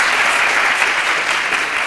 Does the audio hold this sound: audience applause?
yes